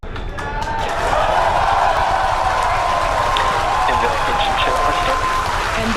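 Excited crowd cheers and roars at a SpaceX Falcon Heavy rocket launch, a steady, swelling wash of distant voices that holds for several seconds while a voice speaks over it.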